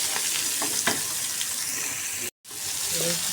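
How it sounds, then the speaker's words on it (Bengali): Hilsa fish pieces fry in hot oil until crisp, giving a steady close sizzle with a few soft clicks and crackles, briefly cut off near the end. "মাছগুলো আস্তে আস্তে ধুনা জালে কড়া করে ভেজে নেব।"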